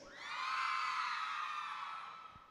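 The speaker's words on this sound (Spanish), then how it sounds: "ese fue un grito de Halloween de las mujeres" Women in an audience at a live show scream together in one sustained, loud group shriek lasting a couple of seconds, swelling quickly and slowly fading out.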